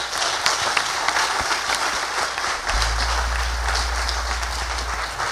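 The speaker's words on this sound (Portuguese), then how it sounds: "Aplauda o Senhor, querido." Applause from a church congregation at a conference, a steady dense wash of many hands clapping throughout, with a low rumble joining partway.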